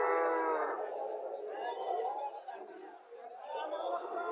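A Jersey cow at a cattle market in Chauddagram, Comilla lets out a long, loud moo at the start, with more lowing cattle further into the clip over a busy murmur of crowd chatter and nearby talk.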